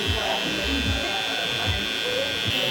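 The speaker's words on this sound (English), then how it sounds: "Use the edge of the clipper and just kind of draw it on." Electric hair clipper edging along a hairline during a low zero fade haircut gives a steady close buzz throughout, continuous and fairly loud.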